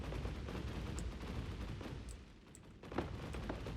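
Rapid explosive minigun fire in the video game UpGun, a dense continuous stream of shots with a few sharper bursts near the end, steady and close throughout.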